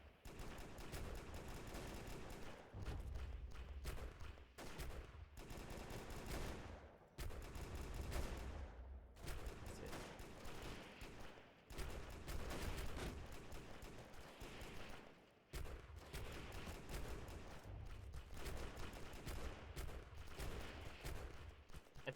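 Sustained gunfire from a P90 and other guns in the PC shooter Delta Force Xtreme 2, loud bursts of rapid automatic fire repeating across the whole stretch with only brief gaps, no talking over it.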